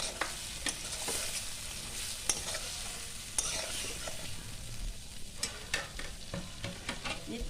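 Fried eggplant pieces tossed and stirred into a pan of poppy seed paste for begun posto, with steady sizzling, sharp clicks of a spatula against the pan, and scraping strokes, alone without talk.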